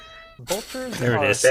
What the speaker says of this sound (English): If you hear a cat in the background, that's because there is indeed a cat.